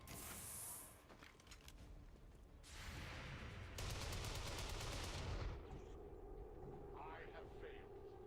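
Gunfire in the turn-based tactics game XCOM 2 with ballistic weapons: a burst of rapid shots and a sustained automatic volley over several seconds, mixed with game effects, under quiet game audio.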